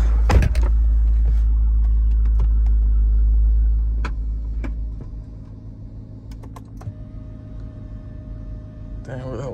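A Jeep Grand Cherokee Trackhawk rolls into a driveway, its deep engine rumble loud at first then dropping away as it slows, followed by scattered clicks and small interior sounds.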